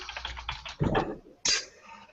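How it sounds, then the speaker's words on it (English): Typing on a computer keyboard: several quick, faint clicks of keystrokes in a quiet room, followed by a slightly louder tap or two. "So I'm going to type in here Fred Flintstone."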